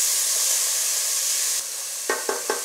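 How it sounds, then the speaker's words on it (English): Diced onions and garlic sauteing in a warm pan, a steady bright sizzle that drops slightly midway, followed by three short scraping stirs. "I just saute that until the vegetables are tender"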